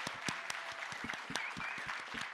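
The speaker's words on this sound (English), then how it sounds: "let's give a round of applause to the program's team" Audience at a leadership program graduation ceremony applauds the program team, steady dense clapping throughout at moderate level, with a few louder individual claps standing out.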